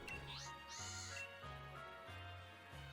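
A sheep Pokémon in Pokémon Sword bleats in a short rising call over steady game music, followed by a rhythmic series of low pulsing tones.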